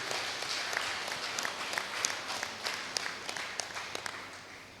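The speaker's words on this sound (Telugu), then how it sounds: "ఒకసారి గట్టిగా చప్పట్లు కొడదాం పత్రిజీకి" An audience applauds Patriji at a Guru Purnima festival gathering in Bodhan, a dense, steady wash of clapping from a crowd that gradually tapers off toward the end.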